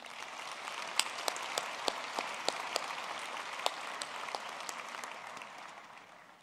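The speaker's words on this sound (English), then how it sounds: "Let's give him a round of applause." Applause from the audience at an engineering and built environment faculty graduation ceremony, a soft, distant wash of many hands with a few sharper individual claps popping out, slowly fading toward the end.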